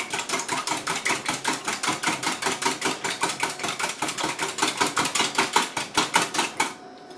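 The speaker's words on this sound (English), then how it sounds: "whisk those together until they're very well blended, completely mixed up" Rapid rhythmic whisking of an oil mixture in a bowl for blueberry muffins, a steady series of close, sharp clicking strokes of the whisk against the bowl, alone without talk, stopping at the end.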